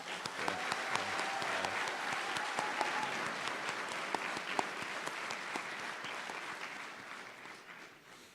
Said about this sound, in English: I just want to give the graduating class one more round of applause.